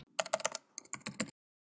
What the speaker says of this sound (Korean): 그리고 컨트롤 C를 눌러서 복사를 합니다.